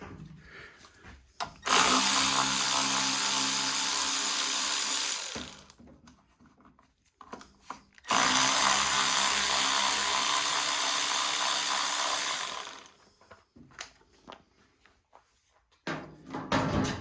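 A ratchet drives two 8 mm bolts out on an Ariens Deluxe 28 snowblower in two long, loud, close whirring runs of about four seconds each, separated by a short pause, with no talk.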